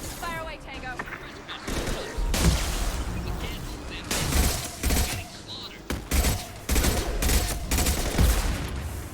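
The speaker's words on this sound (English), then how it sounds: "Fire away, Tango" Bursts of gunfire in the video game Mass Effect 2: repeated rapid volleys and shots in an ongoing firefight, loud and close, with a voice talking over the combat.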